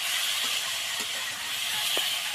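Small fish frying lightly in a little white cooking oil, a steady soft hiss and sizzle with faint crackles throughout, close and continuous with no talking.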